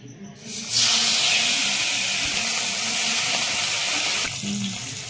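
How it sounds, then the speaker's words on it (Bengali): Koi fish drop into hot oil for a tangy, spicy koi fish dish: a loud, close, continuous frying hiss rises suddenly, holds steady for several seconds and then drops back. "বন্ধুরা, আমার তেলটা গরম হয়ে গেছে, এবার আমি কই মাছটা ছেড়ে দিচ্ছি।"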